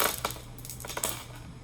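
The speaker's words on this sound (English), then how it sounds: "Let's cast the runes on this month." Small rune stones clattering as they are cast for a reading, a few quick clicking drops and rattles close by over a steady low hum, with no talking.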